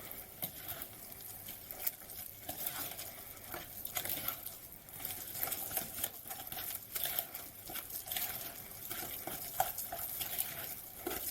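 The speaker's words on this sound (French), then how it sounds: "On continue à mélanger." Yogurt muffin batter with milk and oil being stirred in a bowl: continuous wet swishing and soft scraping with irregular little clicks, steady and close, no talking.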